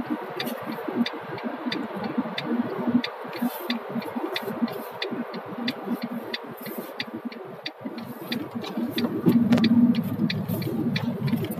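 A Fiat Linea 1.3 diesel with a variable-geometry turbo coasting off the throttle, giving a steady low engine and road rumble inside the cabin, with regular ticking throughout and a slight swell in rumble near the end.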